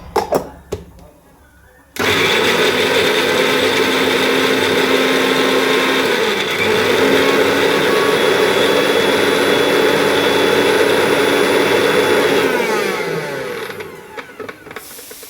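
An electric mixer grinder grinds green chillies and garlic, starting abruptly with a loud, steady motor whine that holds for about ten seconds before winding down, with faint sounds before it starts.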